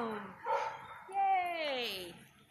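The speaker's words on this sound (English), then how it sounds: "My dog's barking." A dog barking and whining in a few short, high-pitched yelps, faint and somewhat distant.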